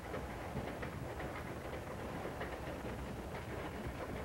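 A passenger train rolls along through the back of a town, a steady, dense rumble with faint rhythmic clatter running continuously without pause.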